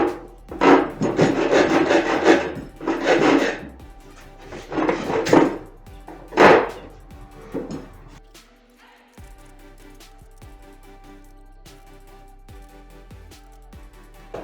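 Wooden lectern corners being rounded off with a file: several bursts of rough rasping strokes at close range, then quieter knocks and handling sounds from the wood toward the end.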